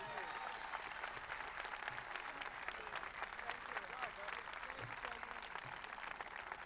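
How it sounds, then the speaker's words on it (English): A rally crowd at a 1996 Bill Clinton event in Providence, Rhode Island, applauds as a speaker is introduced: dense, steady clapping that fills the whole stretch, with scattered voices mixed in. "Give her a warm round of applause."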